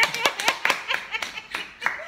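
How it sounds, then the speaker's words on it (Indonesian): Hands clapping in a quick, steady rhythm of about four claps per second, close and fairly loud, with faint laughter at the edges. "Tepuk tangan."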